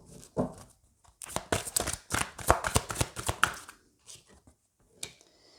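Tarot cards shuffled and drawn, a dense run of quick papery riffles and slaps building to a flurry, then a few scattered single card flicks, fairly close and alone without talk.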